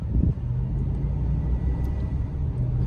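A Chevrolet Silverado pickup truck driving on the road, steady loud low engine and tire rumble heard from inside the cab, with no talking.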